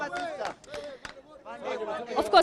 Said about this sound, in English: these are just heated conversations of wananchi who continue to throb these polling stations in anxiety